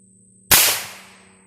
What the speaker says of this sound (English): Let's hit it with the 22 long rifle and we'll see what happens